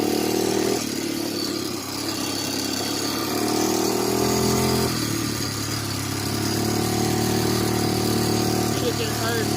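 Honda 300EX ATV engine running steadily in first gear while riding slowly around a house, a continuous close mid-pitched drone with slight shifts in pitch, with a voice talking over it.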